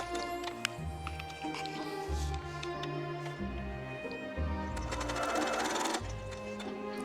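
A sewing machine stitching quilt pieces for a Dresden block, a steady rapid mechanical whir in short bursts with brief pauses, fairly close and alone.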